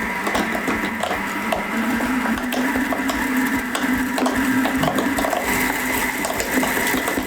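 A kitchen blender runs continuously, whirring and churning basil with olive oil into pesto, a loud steady motor drone close by with no talk.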